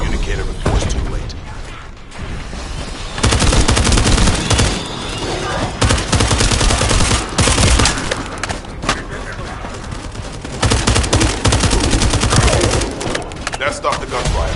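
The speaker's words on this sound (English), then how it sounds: "That stopped the gunfire." Gunfire in the sci-fi shooter The First Descendant crackles in rapid mechanical bursts, loud and close, with dense automatic volleys separated by brief lulls, layered over metallic game effects.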